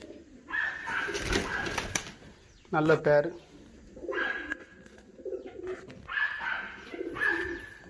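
Fantail pigeons cooing in a loft, several soft rolling coos at intervals with a brief flutter of wings, heard under someone speaking.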